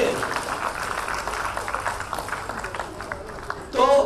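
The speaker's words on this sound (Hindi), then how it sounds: "ताली बजाइए, ताली बजाइए।" A lecture audience on practical parenting breaks into dense, steady applause that fills the room for several seconds. It is mixed with voices and ends in a brief louder burst.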